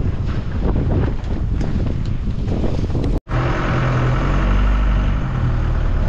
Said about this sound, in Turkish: Çok şiddetli bir rüzgar var.